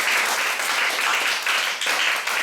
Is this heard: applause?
yes